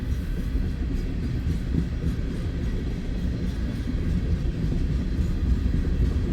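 An eastbound Union Pacific freight manifest train passes on the Blair Fremont Subdivision with a loud, continuous low rumble and rolling wheel noise that holds steady throughout, with no voices.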